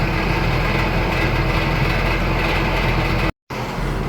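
A tractor engine idles steadily up close, a constant low rumble with no voices, cut by a brief dropout near the end before the running resumes.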